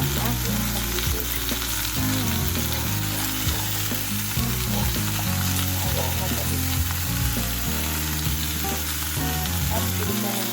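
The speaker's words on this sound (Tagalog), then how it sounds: "Prito na lang natin sa cubes." Cubes fry in a hot pan while cooking chicken sinigang, giving a loud, continuous sizzle that stays steady throughout with a dense hiss.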